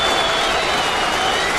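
A baseball stadium crowd applauds and cheers in a steady, dense roar during a 2009 Athletics game, a broad wash of clapping and voices with no single standout sound.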